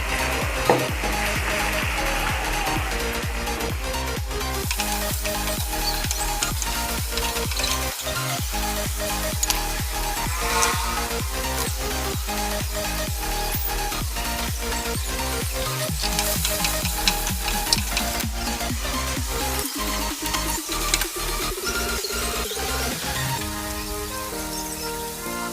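Chicken and potato curry frying hard in a pan, a loud continuous sizzle with crackling spatters and occasional stirring scrapes, no voices.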